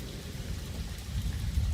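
Rain falls steadily as a constant broad hiss with a deep low rumble, heavy and close, with no talking.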